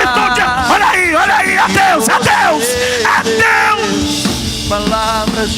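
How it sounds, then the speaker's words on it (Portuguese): A church youth congregation shouts and yells loudly together, a dense, sustained wall of raised voices and whoops with overlapping cries throughout. "Será que alguém pode abrir a boca e dar um grito de..."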